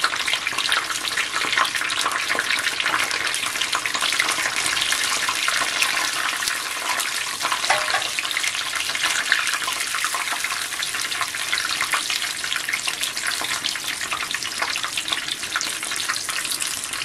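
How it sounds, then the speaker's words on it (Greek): Steady, close sizzling and bubbling of food frying in hot oil, continuous and even throughout with no voices. "Περιμένουμε να τηγανιστούν καλά."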